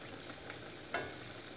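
Shallots dusted with a little flour fry in fresh cooking oil, giving a soft, steady sizzle, broken by one brief scrape of stirring near the end.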